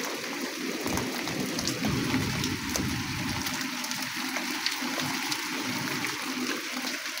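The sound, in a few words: light rain falling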